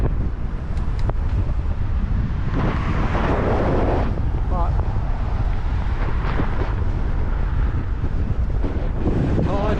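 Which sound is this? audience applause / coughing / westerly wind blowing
westerly wind blowing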